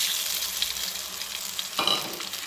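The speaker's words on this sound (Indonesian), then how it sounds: "telur ni saya akan goreng dan garingkan dia, pecahkan dia macam ni dulu dekat dalam kuali ni" An egg fries in a hot wok of oil while nasi goreng with anchovies and bird's eye chili is being cooked. A steady close sizzle continues throughout, and a sharper crackling burst flares up near the end.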